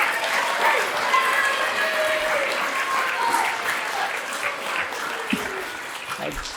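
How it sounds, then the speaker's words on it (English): A crowd at a laptop giveaway event claps continuously, a steady, full round of applause throughout with faint voices mixed in. "Leslie, everybody give him another round of applause"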